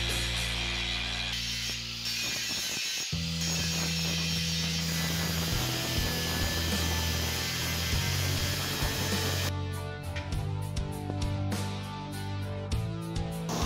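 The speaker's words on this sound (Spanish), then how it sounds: "Ahora vamos a refinar un poco la silueta del hacha con la moladora angular." An angle grinder shapes the head of a tomahawk axe made from an old ball-peen hammer. It produces a loud, sustained whine with steady grinding noise throughout, and its pitch and load shift partway through.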